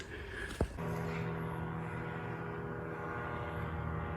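A steady engine drone hums continuously, like a propeller plane passing overhead, with a brief sharp knock near the start.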